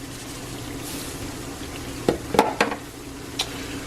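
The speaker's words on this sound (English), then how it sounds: "we're gonna stir. Get all them seasonings well acquainted" Chili ingredients, garlic and seasonings, are stirred in a pot with a soft sizzle, and a few sharp spoon scrapes and clinks come close together near the end.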